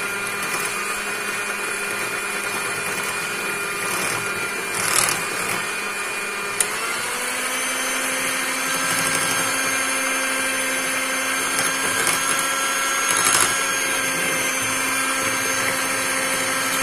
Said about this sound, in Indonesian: Ini akan kita coba di mixer dulu